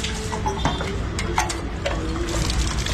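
Water trickling and splashing as it is drawn for drinking a short distance from the sea, a close, busy liquid sound with small irregular bursts of pouring throughout.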